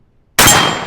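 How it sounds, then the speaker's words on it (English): A single 12 gauge 1 ounce slug fired at a steel target gives one sudden loud blast after near silence, followed by a fading ring. "we're gonna shoot one shell at the steel target to see what it does on impact"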